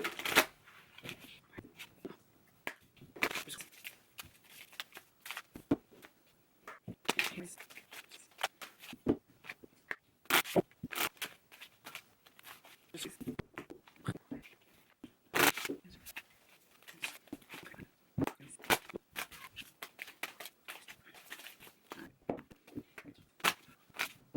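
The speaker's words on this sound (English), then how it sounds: "go through the shuffling process" Tarot cards riffled and shuffled in quick bursts, crisp papery flutters repeating with short pauses between, close up and fairly loud.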